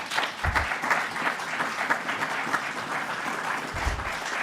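Steady round of applause from a gathered audience, moderately loud and continuous throughout, with a couple of low thumps near the start and end.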